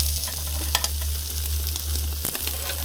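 BBQ ribs searing meat-side down over charcoal on a grill crackle with a loud, continuous sizzle and sharp pops, alone with no voices.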